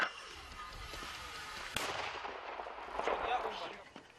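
A mortar fires on the front line near Bakhmut: a sharp, loud blast around the middle cuts through steady outdoor noise, followed by rumbling echo; more distant booms and crackles trail afterward.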